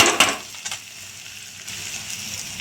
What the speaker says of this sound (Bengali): আমি পেঁয়াজটা একটু ভাজা ভাজা করে নিয়েছি